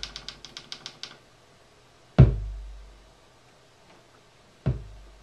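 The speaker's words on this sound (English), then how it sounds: "So there what we've got is like an 808 kick drum from here." An 808 kick drum sample played from an EMU sampler thumps twice, each a deep boomy hit with a long decaying tail, close and clean, after a quick run of soft clicking taps.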